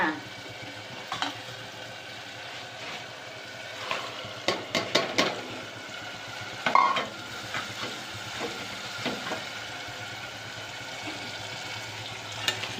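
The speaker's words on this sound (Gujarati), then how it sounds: "મસ્ત મજાનો વઘાર થઈ ગયો છે ટમેટાનો." Tomato tempering (vaghar) sizzles in a pan with a steady frying hiss, broken by scattered stirring clinks and scrapes at moderate loudness.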